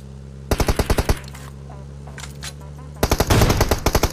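Rapid volleys of gunfire in the video game BGMI, two rhythmic bursts of sharp, evenly spaced shots separated by a pause with faint background activity, loud and close, with light talk underneath.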